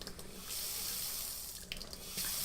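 Water runs steadily from a Kraus KPF-1650 kitchen faucet into a sink, a continuous close hiss with slight shifts in flow and no voices.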